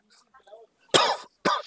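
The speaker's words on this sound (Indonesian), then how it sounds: "Sorry, aku batuk." A person gives two sharp, close coughs in quick succession, loud and near, after a brief faint murmur.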